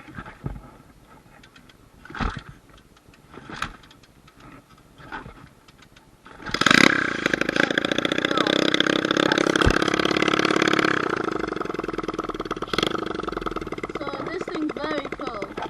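A slightly rusty drift trike's small engine is cranked with a few short pulls, then catches and roars up into a loud, sustained rev before easing to a rough, close idle.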